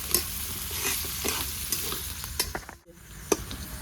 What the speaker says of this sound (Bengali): এবার দিয়ে দেবো আমি মিডিয়াম সাইজের 2টো পেঁয়াজ কেটেছি